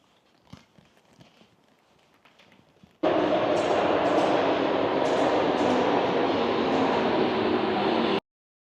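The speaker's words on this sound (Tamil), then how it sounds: "இங்கே பார்த்தீங்கன்னா ஆப்போசிட்டில் ஒரு ட்ரெயின் வந்து ஸ்டேஷனில் நின்றுட்டுருக்கு." A train pulls into a Paris station with a sudden loud, steady roaring rumble that lasts about five seconds after a quiet stretch of faint footsteps and background noise, then cuts off abruptly.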